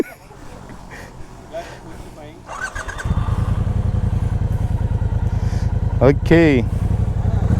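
A Triumph Speedmaster 1200 cc motorcycle starts after a brief crank and settles into a loud, close, throbbing twin-cylinder idle with one sharp throttle blip. A voice speaks briefly before the engine catches.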